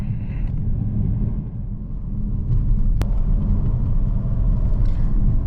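Volvo V90 Cross Country diesel car accelerating on a newly built road, a steady low engine and road rumble building slightly louder partway through, with a brief sharp click near the middle.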